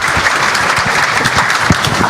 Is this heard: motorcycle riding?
no